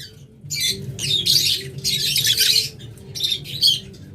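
Opaline lovebirds squawk nearby in harsh, rapid bursts, with several short choppy calls separated by brief pauses.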